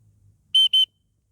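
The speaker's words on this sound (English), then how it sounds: "Sorry about the noise of the whistle anyway," Two sharp, high-pitched blasts from a dog training whistle outdoors, close and loud, separated by a brief gap, with quiet before and after.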